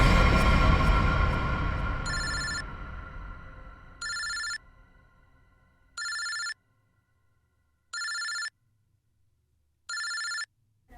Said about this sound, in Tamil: இது யாரோட ஃபோன்?